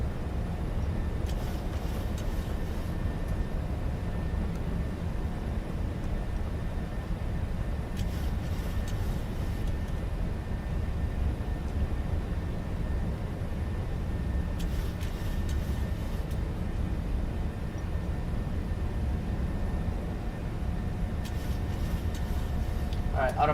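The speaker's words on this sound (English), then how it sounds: "once I took off, I reduced my thrust like a lot, like my throttles" A Boeing 737-800 in Microsoft Flight Simulator runs at reduced thrust after takeoff, a steady low engine rumble filling the cabin throughout, continuous and unchanging.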